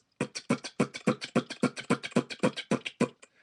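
A voice imitates a fast kick-drum roll, alternating beatboxed kick sounds: well over a dozen quick, even, punchy thumps in a steady rhythm, close and alone.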